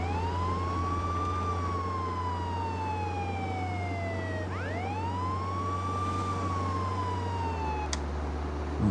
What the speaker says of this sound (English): turn off the siren so they don't hear us coming